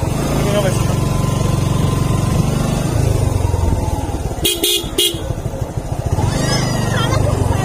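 Several motorbikes arrive on a dark mountain road at night, their engines droning close by, with a couple of short horn toots in the middle. Someone talks throughout over the engine noise.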